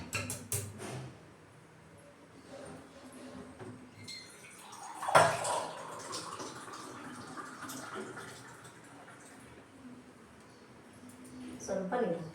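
Water splashes into a cooking pot during home cooking for a family ceremony, a short pour near the middle with kitchen clatter and faint voices around it.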